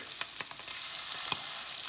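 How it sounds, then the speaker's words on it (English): Steady crackling sizzle of scallops searing in a hot pan, with scattered sharp pops over a constant hiss. "now we're starting to get that great sizzle"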